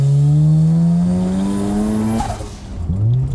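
A droning, high-revving rotary engine in a 400-horsepower Mazda FC RX-7 with a steady smooth pitch that climbs, then drops briefly and revs back up, loud and close.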